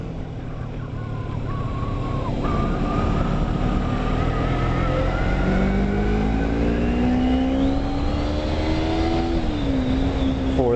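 A motorcycle engine winds up loudly through its gears, its pitch climbing steadily, dropping at each shift and climbing again over road and wind roar, recorded close to the rider.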